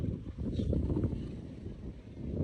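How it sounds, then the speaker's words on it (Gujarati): Wind buffets the microphone at Diu beach with rough seas churning nearby, a faint, continuous low rumble that carries no voices. "દરિયામાં પાણી જેટલું બધું આવે છે આમ જો મોજાઈ એટલા બધા આવે છે ફૂલ પાણી આવે છે"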